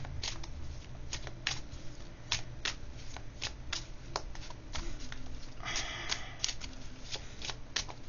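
Tarot-style cards are shuffled continuously at close range, a soft flurry of riffling flicks and slaps with a brief denser burst toward the end, steady and fairly quiet with no talking.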